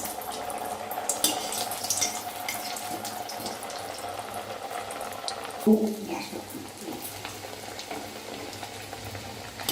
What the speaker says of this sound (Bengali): এবার আমি তেলটা গরম হয়ে তেলের মধ্যে আস্তে করে ছেড়ে দিচ্ছি।